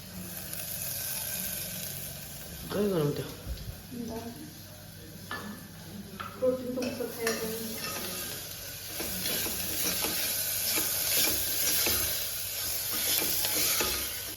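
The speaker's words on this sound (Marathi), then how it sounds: "तेलामध्ये जिरं मोहरी कांदा हिंग टाकलेला आहे आणि ठेचून घेतलेलं आहे भरपूर लसूण घालायचं" Crushed garlic sautéing in oil with cumin, mustard seeds, onion and asafoetida in a village kitchen, a steady sizzle with intermittent stirring clanks, a voice speaking briefly over it.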